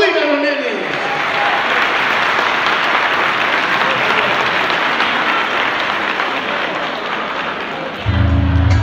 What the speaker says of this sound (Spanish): ¡Vamos, aplaudir a los nenes!